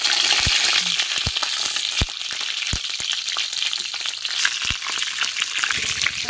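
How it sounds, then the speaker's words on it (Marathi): Continuous frying sizzle of stuffed masala capsicum in hot oil, with occasional sharp pops and clicks of a utensil against the pan. "भरलेली मिरची आता या तेलात अशी टाकायची"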